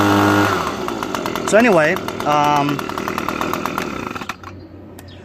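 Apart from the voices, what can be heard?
Echo PB250 leaf blower engine running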